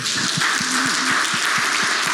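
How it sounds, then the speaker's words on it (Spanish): A congregation at a church gathering claps steadily and loudly, a dense continuous wash of applause over a low, regular thumping beat. "Dé un aplauso al Señor."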